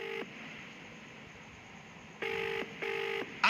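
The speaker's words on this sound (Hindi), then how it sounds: "ये जो फोन की घंटी अब आप सुन रहे हैं" A telephone ringback tone sounds in short buzzing bursts, one at the start and then a pair of rings after a pause, clear over a faint hiss.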